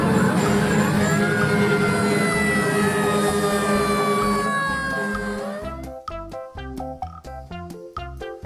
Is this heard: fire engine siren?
yes